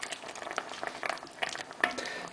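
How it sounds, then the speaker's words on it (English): Chilli con carne simmers in a pan on low heat, giving a steady soft bubbling with scattered small pops and one sharper spit, heard close and alone without talk. "Do it on a fairly low sort of simmer heat, about half an hour."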